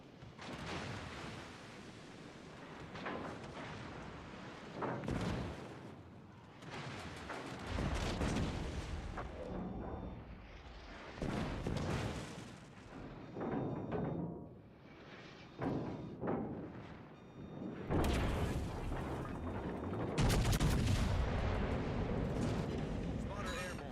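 Heavy booming battleship gunfire and shell impacts in the naval combat game World of Warships Legends, with repeated loud rumbling blasts and explosions across the stretch, partly under someone talking and in-game voice callouts.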